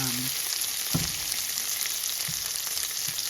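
Garlic fries in a hot pan, browning as it cooks, giving a steady bright sizzle throughout with a few soft low knocks of stirring.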